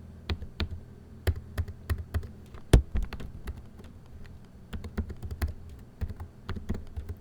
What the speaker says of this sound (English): I'll just go to my nice little calculator and type that in.